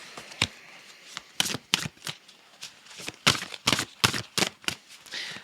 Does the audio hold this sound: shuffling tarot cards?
yes